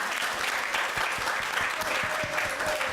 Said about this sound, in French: applaudissez s'il vous plaît Marilyn